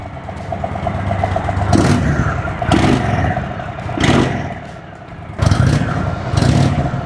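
Indian Sport Chief motorcycle with an air-cooled engine and stock muffler revs several times in short, loud blips over a steady low idle, close by.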